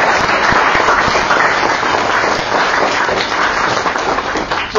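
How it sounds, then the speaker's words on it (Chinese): Steady, full applause from an audience thanking Professor Jiang Yin after his lecture on Tang poetry, a loud continuous wash of many hands clapping with no voices over it. "我们再次以热烈掌声来感谢蒋老师的精彩演"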